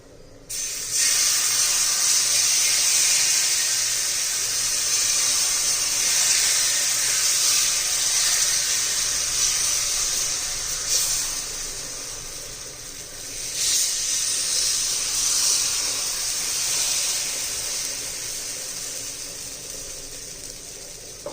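Rice flour batter for ghavan dosa poured onto a very hot griddle from the sides, giving a loud, steady sizzling hiss that swells at the start, dips briefly and surges again, heard alone without talk.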